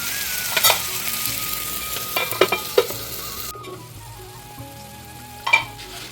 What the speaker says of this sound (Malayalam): ഞാനിവിടെ ഒരു തക്കാളിയാണ് എടുത്തേക്കുന്നത് ഇതും നന്നായിട്ട് വഴറ്റിയെടുക്കാം